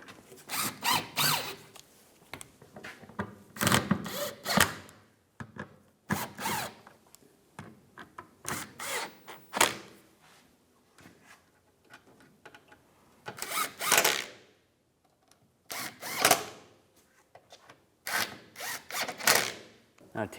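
Power tool driving and tightening front bumper screws on a 2015-2019 Lincoln MKC, heard as a series of short whirring bursts with pauses between them, close and moderately loud.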